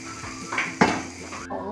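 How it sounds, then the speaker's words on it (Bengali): Vegetable noodles are tossed in a pan, giving a few close scrapes and clinks of a utensil against metal over a faint sizzle, with one louder knock partway through. "এখন ভালোভাবে নেড়ে চেড়ে নেব।"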